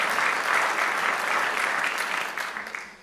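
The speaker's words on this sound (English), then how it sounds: "Yeah, you can clap." Sustained audience applause at the Nevada State of the State Address, a dense wash of clapping from a large crowd that holds steady, then thins slightly toward the end.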